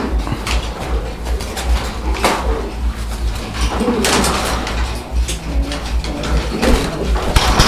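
Fancy pigeons coo in a pigeon-selling setting. Repeated soft coos sit among scuffles and knocks, with occasional background voices.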